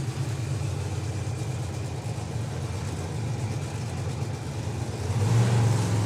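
Screw-type supercharged Hemi drag car engines in a Chevrolet Monte Carlo body rumble steadily at a drag racing event, then swell louder as one revs up near the end.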